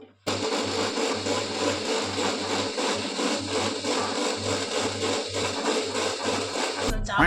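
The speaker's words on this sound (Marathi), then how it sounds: "आमचं मिक्सर हे मोदका कुवामधली मोटरसायकल जसे आवाज करते तसा आवाज करायला लागले" A mixer grinder motor whirs loudly and continuously at close range, a rough droning roar with a rattling pulse, starting abruptly and stopping near the end.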